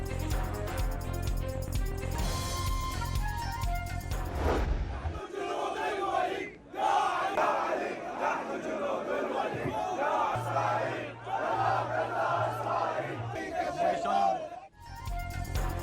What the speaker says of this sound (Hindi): अमरीकी और इसराइली बर्बरियत के खिलाफ नारे।